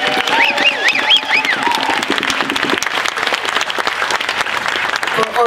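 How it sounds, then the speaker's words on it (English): A crowd claps steadily at an outdoor community gathering and potluck, a broad, dense wash of applause lasting throughout, with a few cheers and whistles rising near the start. "I'd like to have just a shout out and a round of applause for Seeds of Peace"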